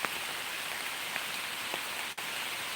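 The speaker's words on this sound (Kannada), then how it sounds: "ಭೂಮಿಯ ನಿರಂತರ ಸೇವೆಯಲ್ಲಿ ಆಟಿಯ ಮಳೆ ನೋಡಿ" Dense, steady monsoon rain pouring down on a village in Karnataka, a continuous hiss with scattered drop hits and one brief dip near the end.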